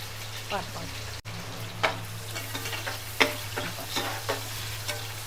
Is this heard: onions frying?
yes